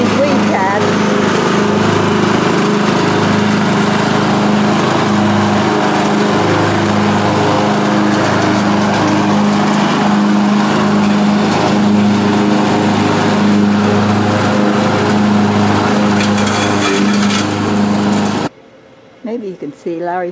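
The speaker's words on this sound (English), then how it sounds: "We got my old mower, riding mower on the trailer so I could mow our backyard if it still works. It's making weird noises." An old riding lawn mower hauled on a trailer runs loudly and steadily with an odd, uneven droning hum, close by and continuous, then cuts off abruptly near the end.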